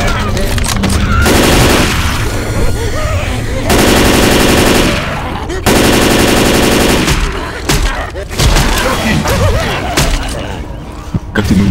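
Rapid automatic gunfire bursts in the zombie shooter game Left 4 Dead 2, loud stretches of rattling shots broken by short pauses, with players talking over the action.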